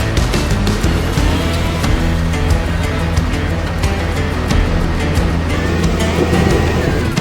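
A vehicle pulling an overloaded cement mixer with a strap, engine labouring loudly and wheels spinning and slipping in a steady churning roar with scattered knocks, no talk.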